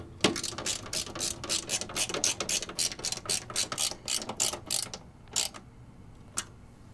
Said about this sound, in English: Then secure the graphics card using the screws we just removed.